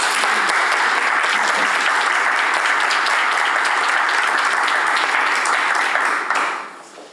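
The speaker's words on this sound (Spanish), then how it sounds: "Les pido un aplauso para..." Audience applause for a speaker at a neuroscience-and-law institute meeting, a dense, steady clapping crowd lasting about six seconds before quickly fading out.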